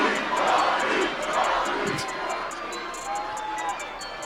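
Crowd cheering at a wrestling event, a dense and steady roar of many voices with scattered sharp claps and shouts, loud and sustained throughout.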